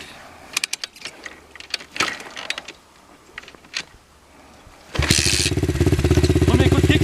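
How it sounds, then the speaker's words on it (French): Mechanical clicks and clunks come first, then a kick brings a motocross motorcycle, an Apollo RXF, to life. Its engine catches at once and settles into a loud, steady, close idle. "Premier coup de kick, ça démarre."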